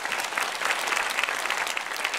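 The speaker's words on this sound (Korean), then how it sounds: "처음 새 가족을 박수로 환영하겠습니다" A church congregation at a Korean Sunday worship service applauds steadily to welcome new members, a dense, even clapping with no gaps throughout.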